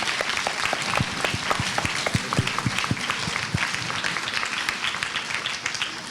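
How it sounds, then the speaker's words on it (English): An audience at a Chinmaya Somnath summer camp finale gives Lavanya a sustained round of applause, with dense, even clapping at moderate loudness throughout and no talk over it. "So please give her a huge round of applause."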